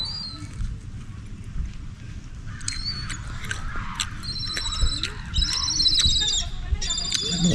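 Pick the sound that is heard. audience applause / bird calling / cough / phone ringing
bird calling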